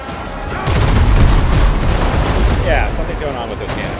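Ship cannons in a video game fire in a quick burst of deep booms and crackling blasts, loud and close, with a layered rumbling volley through the middle of the clip.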